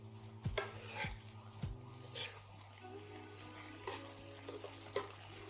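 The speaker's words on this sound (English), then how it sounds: "Gently mix everything thoroughly so that the flavors collected in the pan combine gently and heat through" Chicken and a side dish stirred together in a hot pan, with soft clinks and scrapes of a utensil against the pan over a faint sizzle, several light knocks spaced through the stirring.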